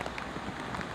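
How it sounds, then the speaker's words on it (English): Heavy rain pouring during a thunderstorm over the Irish Sea, a dense, steady hiss with no break, close and fairly loud. "Oh, it's raining so much."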